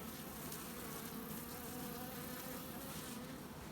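Guard bees buzz steadily around a hive pallet, a dense, continuous hum of many insects close by with no voices.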